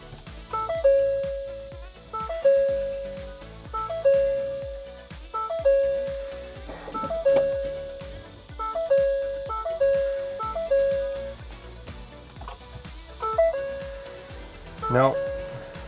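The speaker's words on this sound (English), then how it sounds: "Let's see if the truck will start now." Repeated chime tones ring from a wrecked Ford Lightning pickup during start attempts after a battery reset, a regular pattern of sharp dings that each fade away, heard alone and fairly loud.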